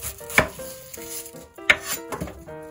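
Knife chopping an onion on a cutting board: three distinct sharp chops spaced about a second apart, close and fairly loud over faint kitchen background.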